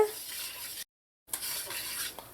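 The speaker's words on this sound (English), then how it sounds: "So just allow your curry powder to toast in here for about 1 to 2 minutes. Make sure and keep stirring it so it doesn't burn." Curry powder toasting in a pot over medium-low heat for Trini curry chicken, with a spoon scraping and stirring through a soft sizzle; the sound cuts out briefly, then resumes.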